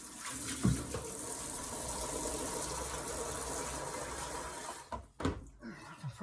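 Fresh water pours into a container for whetstone knife sharpening, a steady gushing stream that runs for about five seconds and then ends with a few splashes and clinks.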